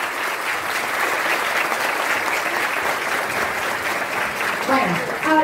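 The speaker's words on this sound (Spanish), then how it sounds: "Te recibimos con un fuerte aplauso a Álvaro Padín." A talent show audience applauds loudly as a jury member, a spa director, is welcomed onto the stage, with sustained dense clapping throughout and a voice speaking near the end.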